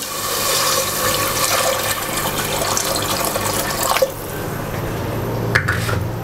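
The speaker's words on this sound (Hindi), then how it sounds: "2 गिलास इसके अंदर पानी ऐड करूँगी।" Two glasses of water pour steadily into a pot for several seconds for a bottle gourd and chana dal dish, a continuous splashing rush that shifts lower in tone near the end, with a faint clink.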